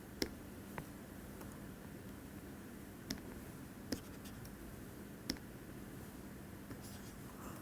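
Chalk or marker writing on a lecture board during a lesson on Lotka-Volterra competition models: a handful of sharp, separate taps and short strokes spread over a steady faint room hiss, quiet and alone without talk.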